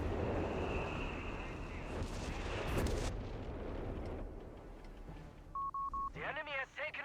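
Artillery fire in the Company of Heroes 3 strategy game, deep rumbling blasts and a heavy boom in the first half, followed by beeping interface tones, with a commentator talking throughout.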